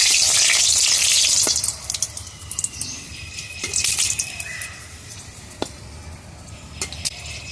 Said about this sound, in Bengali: এখন দুটো লঙ্কা ফোড়ন দেব, একটু কালো জিরে ফোড়ন দেব।